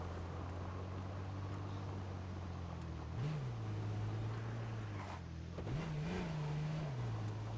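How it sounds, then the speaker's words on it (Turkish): A vehicle engine in the survival game H1Z1 drones at a low steady pitch, then rises and dips twice as the car revs and shifts, sounding fairly muffled and even throughout. "Bu araba harbi niye böyle benzin sesi mi lan bu?"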